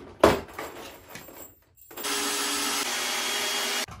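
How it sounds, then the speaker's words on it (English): A sharp knock is followed by brief scraping, then a power drill whirs steadily and loudly, pre-drilling wooden bench seats, for about two seconds before stopping. "We've got the bench seats down here. I'm gonna pre-drill these."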